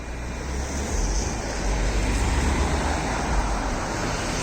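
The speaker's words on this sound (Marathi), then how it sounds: "आणि ह्या गाड्या पास होतील" Steady roadway noise of cars passing on a road in Ireland, a broad continuous rumble and whoosh with no talk.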